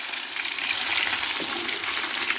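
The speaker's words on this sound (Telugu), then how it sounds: "కాకరకాయ అయితే ఫ్రై చేసి ఫస్ట్ ప్లేట్లో పెట్టుకొని తర్వాత చేస్తాను" Bitter gourd pieces frying in hot oil give a loud, close, continuous bubbling sizzle with a dense crackling hiss and no other sounds.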